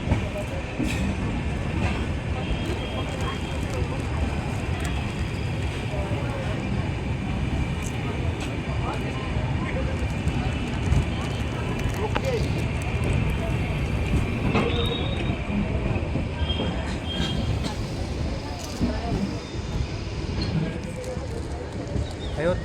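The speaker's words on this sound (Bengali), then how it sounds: "অযোধ্যা ধাম জংশন রেলওয়ে স্টেশন থেকে আমাদের ট্রেন দুন এক্সপ্রেস আপাতত 54 কিলোমিটার পথ অতিক্রম করে এখন এসে পৌঁছালো আকবরপুর জংশন রেলওয়ে স্টেশন" The 13010 Doon Express runs along the rails near Akbarpur Junction, a steady rumble with rhythmic wheel clatter and occasional squeals throughout, heard from inside the carriage.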